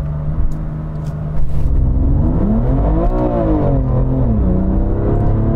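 A BMW M2 Competition launches hard under launch control from a start on gravelly ground, its engine revving up in a rising, steady roar through the gears, loud and close.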